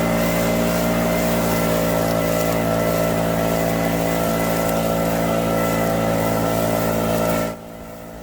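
A gas leaf blower clearing leaves off a trail roars loudly and steadily nearby for several seconds, then cuts sharply down to a faint idle near the end.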